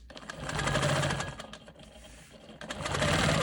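A sewing machine quilting along sashing runs in loud, close bursts, its motor whirring up, easing off in the middle, then surging again near the end.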